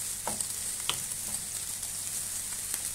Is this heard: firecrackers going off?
no